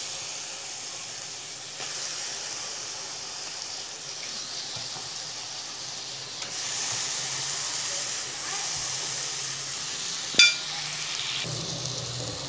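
Sliced liver fries in a hot pan as a pastry filling, giving a steady, moderately loud hiss and sizzle that swells midway, with one sharp clink near the end.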